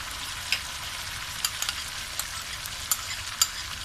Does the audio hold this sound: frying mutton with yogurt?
yes